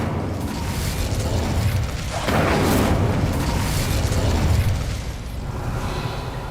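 The Incendio fire spell cast in Hogwarts Legacy: a loud, sustained roaring whoosh of flame that swells partway through and holds before easing, dense and close.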